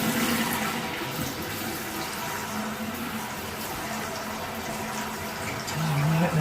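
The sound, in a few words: water running from a faucet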